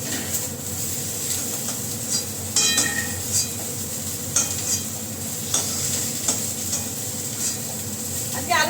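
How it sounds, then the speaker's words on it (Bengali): Potatoes and cauliflower frying in a pan, a steady close sizzle broken by occasional stirring scrapes and light clinks. "বেশি আলু আর ফুলকপিটা একটু ভেজে নিলাম"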